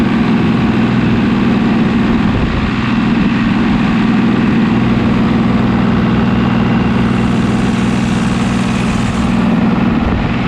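A Super 99 tractor engine with a GM diesel runs steadily at close range, a loud, constant low mechanical drone without pause or speech.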